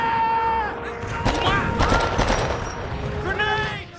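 Gunfire and a grenade blast in the Vietnam War video game Men of Valor, heard as a dense string of loud bursts and impacts over a steady battle din, with a voice talking through it.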